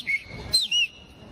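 A person whistles a few short, high, clear notes with sliding pitch, close and fairly loud over a quiet background.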